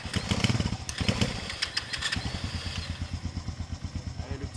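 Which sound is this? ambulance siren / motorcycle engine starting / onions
motorcycle engine starting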